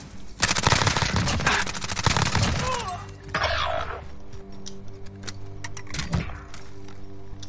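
Rapid automatic gunfire from a military shooter video game rattles loud and close in dense bursts, then gives way to scattered single shots and distant pops over a low background hum.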